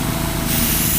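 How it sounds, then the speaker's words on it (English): Short burst of air from an airbrush blowing over fresh paint on a custom Chevy Impala, a close, loud, steady hiss that cuts off abruptly. "You can actually help it with air from the airbrush."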